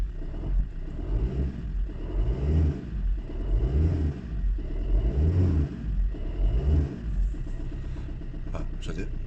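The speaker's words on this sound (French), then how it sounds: "je vais l'accélérer un petit poil." An Opel Corsa engine with worn gearbox bearings is blipped lightly several times in a regular rhythm, each small rev rising and falling over a steady idle rumble, recorded close up.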